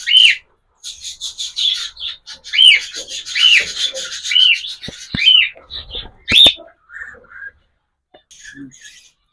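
Pet cockatiels, budgies and finches kept for sale chirp in repeated shrill, rising calls close by, with scattered clicks and rustling between them.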